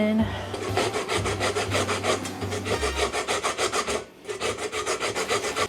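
A lemon zested against a metal grater in a kitchen, giving steady repeated rasping strokes in a quick even rhythm, close and fairly loud, with one brief pause near the end before the scraping resumes.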